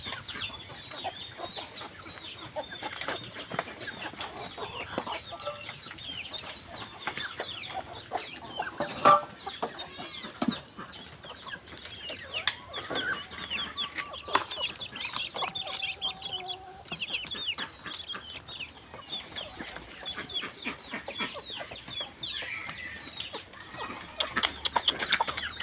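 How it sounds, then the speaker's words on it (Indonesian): Chickens cluck continuously around a farm after rain, with a layered flock of hens murmuring and calling at a moderate distance, steady throughout with occasional louder squawks and no talking. "Nih ada ayam lagi bertelur."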